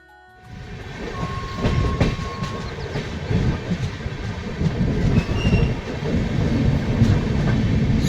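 The Darjeeling Mail rolls slowly into Kishanganj station on a foggy winter morning, with a steady low rumble, rhythmic wheel clatter over rail joints and a brief thin squeal, growing gradually louder and closer.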